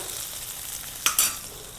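Garlic sizzles steadily in a pan, with a couple of brief spoon clinks and a short stir partway through. The sound is close and fairly soft.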